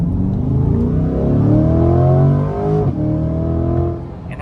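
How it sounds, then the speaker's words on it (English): A 2024 Chevrolet C8 Corvette 2LT engine drones loudly from the cabin while driving, a steady low rumble that swells slightly as revs build, dips briefly, then carries on. "I'm currently driving a C8 Corvette"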